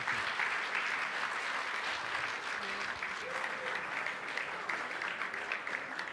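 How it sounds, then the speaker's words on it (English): A crowd at a business awards gala dinner claps steadily, producing a soft, continuous wash of applause heard from some distance, with a faint voice underneath. "How about another round of applause?"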